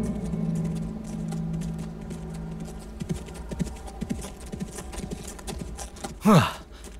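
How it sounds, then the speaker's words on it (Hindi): Horses gallop with a steady, rapid clip-clop of hooves in a dramatized scene, moderately close. A brief whinny rises near the end. "हमें रफ्तार बढ़ानी होगी शहजादे। हाँ, मगर घोड़े पर रफ्तार बढ़ाने से इसका खून तेजी से बह रहा है अरतुरुल"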